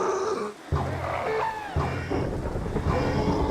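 Thunder rumbles and cracks repeatedly during a thunderstorm in Minecraft, with deep booming rolls recurring every second or so over a steady wash of rain.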